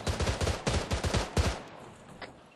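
Rapid bursts of automatic gunfire crackle in an Escape from Tarkov firefight, a dense run of shots for about a second and a half, then a short pause before one fainter distant shot.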